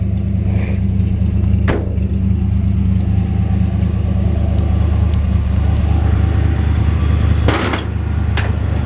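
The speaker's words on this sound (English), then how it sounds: "It's got a great sounding exhaust." A 1954 Chevrolet 5-window pickup with a 454 V8 idles with a deep, steady exhaust rumble close by, holding a constant level with two brief sharp knocks layered over the drone.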